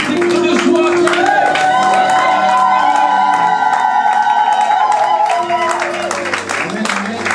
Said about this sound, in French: Est-ce que tu peux pousser un cri de joie là maintenant?